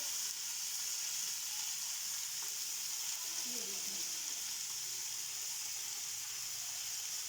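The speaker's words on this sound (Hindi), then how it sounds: "ये देखिए हम सबसे पहले ये डाल देंगे, अच्छे से हम इन्हें फ्राई कर लेंगे।" Vegetables frying in a hot pan for Chinese biryani make a continuous, even sizzle up close, with a brief faint voice partway through.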